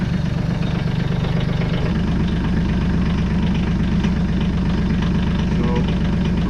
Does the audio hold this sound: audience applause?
no